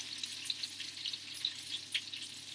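Quiet, steady sizzling and crackling of schnitzels frying in hot oil in a pan, with small pops scattered throughout, close by and without talking.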